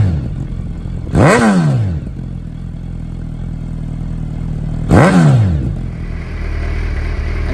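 A Hayabusa motorcycle fitted with a Brock's Performance full titanium exhaust with a carbon fiber tip rumbles at idle close by, punctuated by two sharp, loud throttle blips about four seconds apart.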